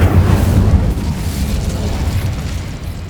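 The Incendio fire spell from the game Hogwarts Legacy erupts in a loud, deep whooshing burst of flame that roars at the start and then slowly fades while still rumbling.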